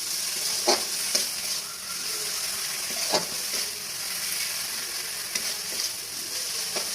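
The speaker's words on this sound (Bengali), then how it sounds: "যাতে কড়াইতে লেগে না যায়" Food frying in a kadai over a gas flame, a continuous close sizzle broken by several sharp scraping clicks of a spoon stirring.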